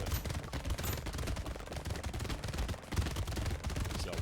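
Rapid SMG fire in the arcade game Brotato, a dense, unbroken rattle of shots layered with busy game effects, loud and steady with no pause across the whole stretch.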